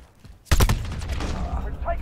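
Gunfire from a chopper gunner in a Modern Warfare match: a sudden burst of rapid, loud shots that settles into continuous rumbling fire, with a voice talking over it.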